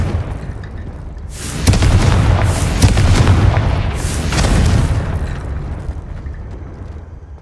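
A Confringo spell explosion in the Hogwarts Legacy video game: a loud, rumbling blast bursts in after a short lead-in, with a second swell of booming explosion before the sound fades, no voices.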